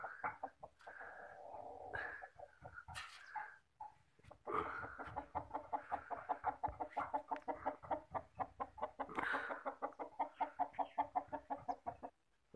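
A chicken clucks in a rapid, rhythmic series of short calls, close by, with a few louder squawks mixed in and no talking.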